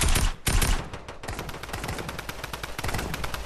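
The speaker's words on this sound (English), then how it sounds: "let's focus our gunfire on that" Rapid Fortnite gunfire, a loud close burst of shots followed by a brief gap and then sustained automatic fire with sharp repeated cracks throughout.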